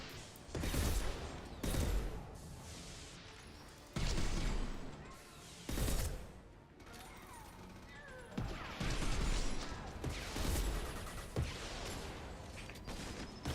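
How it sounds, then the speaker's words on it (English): Gunfire in Mass Effect 2 aimed at a mech, heard as repeated loud, sharp bursts of shots with game effects and a few quieter gaps between volleys. "you can actually, try and shoot the head off the mech yourself when it starts to get low"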